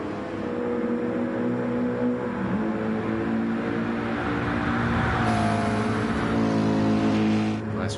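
A race car engine in the Gran Turismo racing game drones loudly and continuously through an endurance race, holding a steady roar with a brief rise in pitch near the end.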